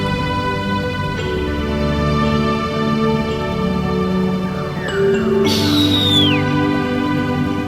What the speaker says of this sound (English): Just check out these fascinating whistler kites.